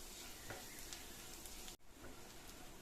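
Chopped garlic frying in melted butter, giving a steady, soft, dense sizzle with a few faint spatula touches and a brief dip midway, heard close but quietly with no talking.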